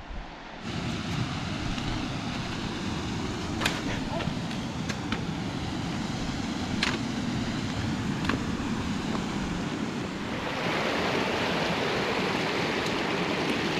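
Waterfalls along a snowy trekking trail near Ushuaia make a constant rushing roar mixed with gusty wind noise across the whole stretch.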